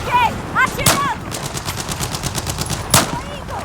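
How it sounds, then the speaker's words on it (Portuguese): Rapid automatic gunfire in the Battlefield 4 video game, a loud close burst of fast repeated shots with a couple of sharper single cracks, a voice briefly audible underneath. "Ok, atirando."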